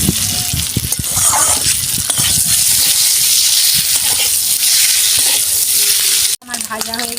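Boiled eggs sizzle loudly in a hot pan as they fry, a steady, close crackling hiss that runs on without break before dropping off abruptly near the end.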